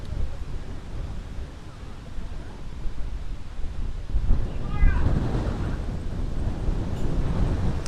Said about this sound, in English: we're experiencing up to 40-kilometer gusts here in Winnipeg today